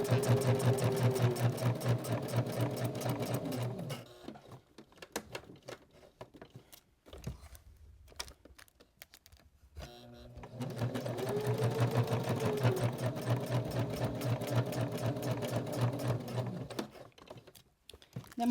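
A sewing machine stitching a luggage tag holder runs in two long, steady, buzzing stretches of rapid needle strokes, close and clear, with a quieter pause of handling and clicks in between.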